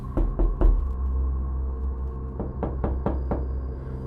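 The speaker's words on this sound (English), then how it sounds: "I heard faint knocking on my front door." Knocking on a front door, three quick knocks followed after a pause by four more, fairly close and clear over a low background drone, with no voices.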